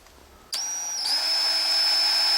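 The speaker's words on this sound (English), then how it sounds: "just put it on a drill motor" Drill motor spinning up a primer pocket cleaning tool for reloading .30-06 brass: a sudden high whine starts, steps up once in pitch and then holds a steady, loud, close buzzing drone without talking.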